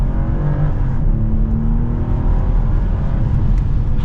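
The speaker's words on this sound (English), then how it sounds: "We'll do one last acceleration." A 2023 BMW 740i accelerates hard, its engine droning loud and steady with a rising pitch, heard from inside the car with road noise underneath.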